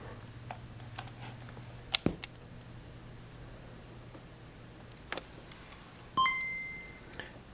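A Game Boy's audio patched into a Line 6 TonePort plays a faint, short electronic chime near the end, after a few quiet clicks and taps over low hum and line noise.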